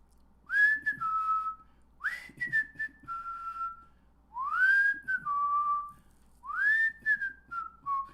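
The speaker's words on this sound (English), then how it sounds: "That's just when I've got nothing to do and I'm just whistling." A man whistles a short tune in four separate phrases, each a clear rising note falling into held tones, close and fairly soft, with quiet pauses between phrases.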